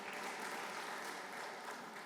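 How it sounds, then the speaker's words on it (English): A large indoor audience at an anniversary celebration gives staff members a strong round of applause, a dense, even wash of clapping that holds steady throughout. "let's give them a strong round of applause"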